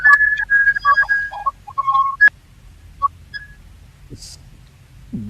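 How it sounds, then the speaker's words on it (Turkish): A short electronic ringtone-like melody of quick high tones plays for about two seconds, followed by a few isolated faint beeps and near-silence. "telefonu çaldı herhalde"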